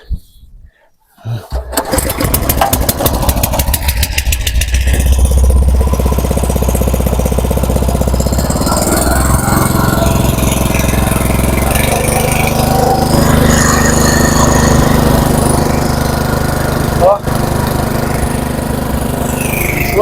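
A gasoline-engine motor water pump starts after a pull and then runs loud and close, its rough engine rumble steady with a slight climb in revs.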